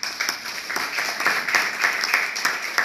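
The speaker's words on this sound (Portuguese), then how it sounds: "Você pode aplaudir ao Senhor por isso?" A church congregation applauds during a Portuguese-language sermon: steady, moderately loud clapping from a mid-sized crowd, with dense overlapping claps and no voices.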